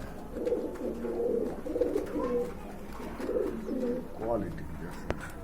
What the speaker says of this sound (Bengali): এক জোড়া খাকি কবুতর আছে